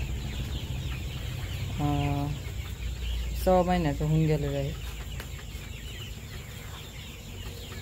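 Chickens at a poultry farm selling its birds give a few short, clear clucking calls close by, while someone talks in between.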